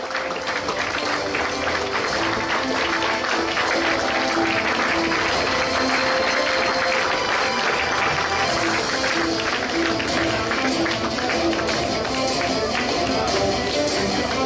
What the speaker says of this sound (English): So give big round of applause to Dhokrat sir.